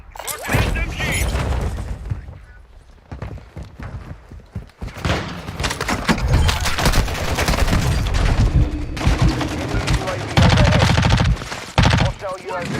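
Submachine gun fire in a shooter video game: loud, dense rapid bursts with heavy booms and impacts across most of the stretch, with a brief lull early on and a voice talking in between.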